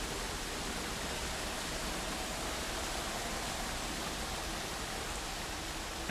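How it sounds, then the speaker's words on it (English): Steady, powerful roar of a waterfall inside a cave in the game Dear Esther, a dense unbroken rush of water at constant loudness with no voices. "the sound of the waterfall is very powerful"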